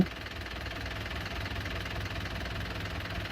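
A harvester's starter motor cranks the engine on a weak battery, giving a steady, labored churning rumble that never catches, close and continuous throughout.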